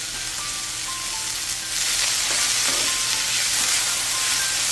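Vegetables sauteing in a big new cast iron skillet: a loud, steady sizzle that swells into a fuller hiss partway through as more goes in, with no talking.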